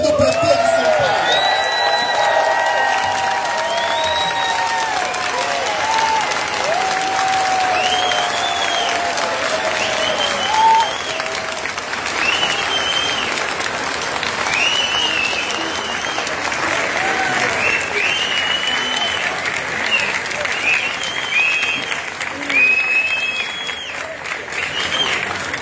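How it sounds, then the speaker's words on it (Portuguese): Sustained, loud crowd applause for a Brazilian deputy at a 40th-anniversary MST event, thick clapping with whoops, cheers and rising shouted voices over it for the whole stretch. "E fique de pé e receba a calorosa salva de palmas, o deputado Eduardo Suplicy, do PT de São Paulo."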